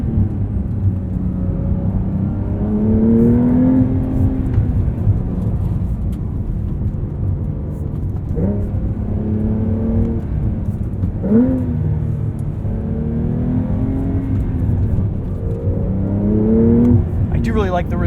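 A Porsche 911 Carrera T with a seven-speed manual is driven hard from the cabin, its engine note rising through repeated revving pulls with brief dips between shifts, loud and continuous.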